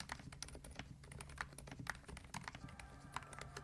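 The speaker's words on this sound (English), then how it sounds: "Finally, a rapid trigger keyboard that is actually silent." Keys clack in a fast, irregular flurry on a Gamakay TK75 HE Hall-effect rapid trigger keyboard with silent switches. The strokes sound soft and muted, close up, with no talking.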